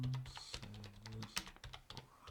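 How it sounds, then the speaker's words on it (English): Rapid clattering keystrokes on a computer keyboard, close and fairly quiet, with a low voice humming or murmuring underneath at times. "You could have stopped typing a long time ago."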